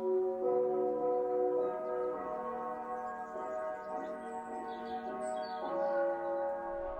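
Church bells ringing in the open air during a festival in Portobeseno, overlapping tones swelling and fading in a steady sequence, loud and sustained with faint birds in the background.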